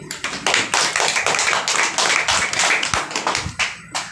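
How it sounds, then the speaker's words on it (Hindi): Students in a tuition class clapping together in a brisk, fairly even rhythm, loud and close, with some uneven claps toward the end and no talk. "मारो ताली।"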